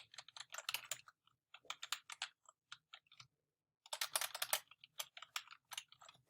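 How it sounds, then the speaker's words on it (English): Typing on a computer keyboard while entering a search term for a website, with rapid clicking keystrokes in two bursts separated by a short pause, close and clear with no talking. "we type that in the search box"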